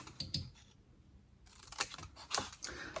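Scissors snip through card while the corners of a handmade gift box are cut and mitred, giving a few crisp, close clicking cuts in short bursts with quiet pauses between.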